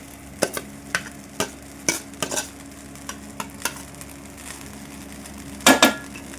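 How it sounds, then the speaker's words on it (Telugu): Chicken fried rice with eggs is stirred and fried in a pan, with a spatula scraping and knocking in regular strokes over a steady low sizzle, ending in a louder clatter of metal. "ఇదంతా ఈ రైస్ మొత్తం పట్టే విధంగా అయితే మిక్స్ చేసుకోవాలి"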